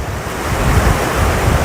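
Floodwater from the swollen Mahur river at Kolabari surges against and erodes its bank, a steady loud rushing roar with heavy low rumble and wind buffeting the microphone throughout.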